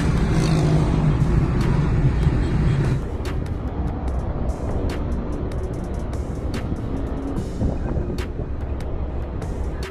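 Dense road traffic on a bridge near the airport in Bangalore, heard from inside a moving car as a steady, loud broadband rumble with wind buffeting, a heavier low roar at first that eases slightly but keeps going throughout.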